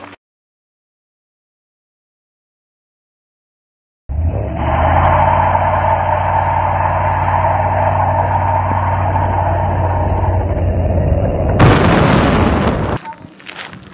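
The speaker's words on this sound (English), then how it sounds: "Let's roast some tires" A car doing a burnout to roast its tires, a loud sustained engine roar that starts abruptly after silence, holds steady, then swells into a harsh noisy burst before cutting off.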